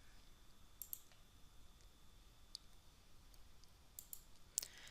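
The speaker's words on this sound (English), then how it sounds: "so you can easily right-click on the analysis variable and click Copy" A few faint, crisp computer mouse clicks scattered over a quiet background, isolated taps spaced unevenly.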